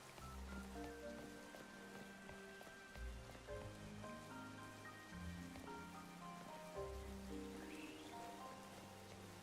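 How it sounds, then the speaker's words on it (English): Rain falls steadily in a Pokémon Scarlet video game, a soft continuous patter at low volume, heard alone with no talk. "Oh wow, it rains."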